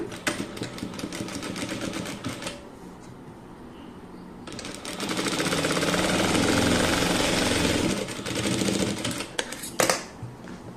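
Sewing machine joining two fabric pieces with a quarter-inch seam allowance, running in dense steady bursts that stop briefly and restart louder for a long stretch, close and alone with no voices.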